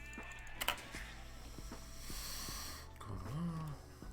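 Sheep bleating in the Age of Empires II video game, a single short nasal bleat near the end, faint, over game ambience with clicks.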